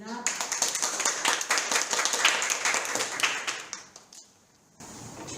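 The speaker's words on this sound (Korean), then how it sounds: "잘할 수 있도록 격려와 박수를 쳐주시기 바라겠습니다." An audience claps together at a youth meeting with the Seongbuk District Council, a dense burst of many hands lasting about four seconds before it fades out.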